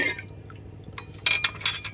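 Salt stirred into a pot of cooking water for boiling cauliflower, giving a few soft liquid swishes and clinks of a spoon against the pot, growing louder and more distinct toward the end.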